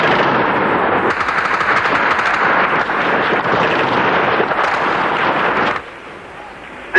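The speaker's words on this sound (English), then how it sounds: "The vicious snap of rifle fire comes from the snipers themselves. The heavier sound of the machine guns is the army's answering fire." Sharp sniper rifle shots and heavier army machine gun bursts crackle in dense, continuous volleys during street fighting in December 1989, loud and echoing, then the gunfire abruptly drops away to quieter background noise near the end.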